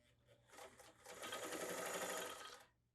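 A vintage Kenmore sewing machine stitches through 16 layers of heavy cotton twill, giving a quiet, rapid mechanical whirr that speeds up, holds for about two seconds, then stops.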